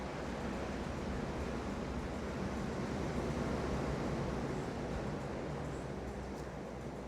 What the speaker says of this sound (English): I'm on the balcony, if you can hear the sea in the background.